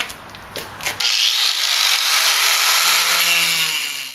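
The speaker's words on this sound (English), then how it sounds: "after quite a bit of cutting, it's not easy with this grinding wheel" A harsh, continuous grinding whine as an abrasive grinding wheel bites into concrete backer board, loud and close, starting after a brief lighter rasp.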